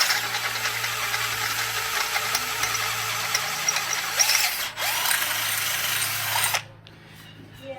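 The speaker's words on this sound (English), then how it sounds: "use a punch to mark where it's going to be, and you're going to drill a hole" A power drill whines steadily for several seconds, drilling a hole into Jeep JK metal, briefly pausing, then stopping, leaving a quieter background.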